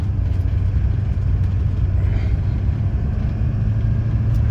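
A diesel truck shifted into four-wheel drive high runs as a steady, low engine rumble with a constant drone and no sharp noises or changes throughout.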